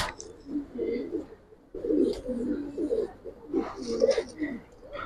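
Giribaz pigeons coo in a loose, repeated series of soft murmuring calls close to the mic, with brief pauses between bursts and a low, hushed background.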